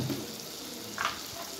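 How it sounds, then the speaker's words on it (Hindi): Dal and spices fry in a pan, a soft continuous sizzle, fairly quiet and close, with a brief brighter crackle partway through. "बस इस मसाले को भी अच्छे से भून लूँगी।"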